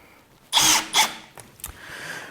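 A cordless power drill drives screws to mount a smoke detector, with two close, loud whirring bursts followed by fainter clicks and a low tail of handling noise.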